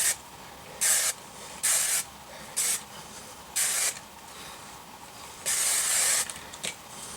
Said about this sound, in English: Sometimes I scrunch it a little bit while the hairspray is drying.